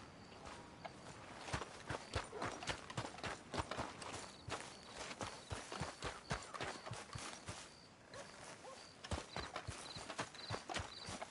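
Steady clip-clop of horse hooves walking on a hard surface in the video game Red Dead Redemption 2, loud and close, with regular rhythmic strikes throughout and a brief pause near the end.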